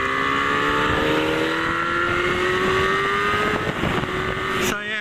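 Turbocharged Honda streetfighter motorcycle cruising through suburban Adelaide, engine pitch climbing steadily under strong wind noise, then a gear change near the end as the tone drops and rebuilds.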